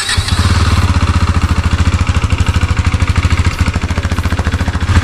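A KTM Duke 390 single-cylinder engine with its stock exhaust, after two months of use, idles with a loud, close, steady rapid thumping pulse and no voices.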